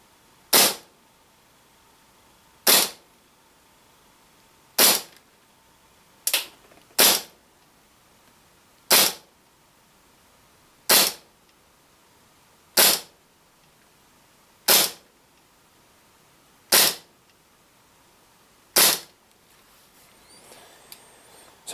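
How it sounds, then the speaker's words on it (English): A G&G SMC-9 gas blowback airsoft SMG fires green gas shots in a warm setting, eleven sharp, separate cracks spaced roughly two seconds apart, each loud and alone against a quiet background. "So a few warm shots there, followed by some decent shots, followed by some warm shots again"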